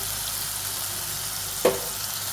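Tomatoes and onions frying with a little salt in a pan for chicken curry, a continuous soft sizzle heard alone, with one brief scrape or clink near the end.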